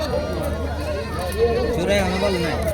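Goats and sheep bleat repeatedly at the Gobindasi livestock market in Bhuapur, Tangail, Bangladesh, where tall goats are on sale. Wavering cries rise over a crowded market hum while people talk and bargain close by.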